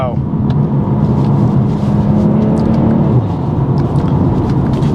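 A tuned BMW M240i xDrive rated at 450 bhp drives along with a loud, steady low engine and road rumble from inside the cabin.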